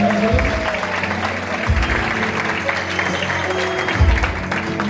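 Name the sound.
applause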